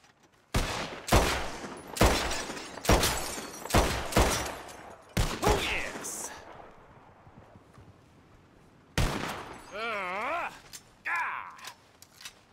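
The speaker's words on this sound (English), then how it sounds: "Whoever shoots the most bottles wins, okay?" A string of roughly eight or nine sharp gunshots in Red Dead Redemption 2, fired at bottles in a shooting contest, loud and fairly evenly spaced, followed by quieter mechanical clicks and a voice.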